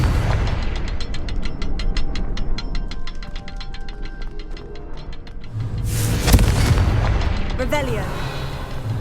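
Confringo blasting spells cast in the video game Hogwarts Legacy, a rapid train of sharp magical pulses followed by a heavy booming explosion and a crackling, fizzing tail, with a voice speaking over it.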